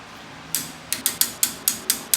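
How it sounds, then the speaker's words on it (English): A torque wrench ratchets lug nuts down on 2-inch wheel spacers fitted to a 2017 Ford F150 EcoBoost, giving seven sharp, close metallic clicks at a slightly uneven pace with quiet gaps between. "now we're gonna torque it down to 100 foot-pounds"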